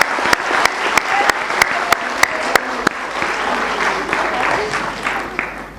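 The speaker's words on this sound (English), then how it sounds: "thank you very much, audience, for still being here and clapping so lively" An audience at a nursing simulation conference in India claps lively and continuously, sharp hand claps standing out over a dense wash of applause.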